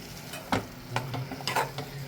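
Mushroom masala being stir-fried, soft continuous sizzle with several spatula strokes scraping the pan in quick succession, close and moderately loud.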